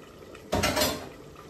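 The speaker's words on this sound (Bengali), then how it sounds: "আটক জল দিছি, দেখি কত সময় সিদ্ধ করা যায়" Water is poured into a cooking pot holding a Bangladeshi koi fish curry with red malabar spinach and lubi beans, a brief close splashing pour lasting about half a second that tapers off, with no talking.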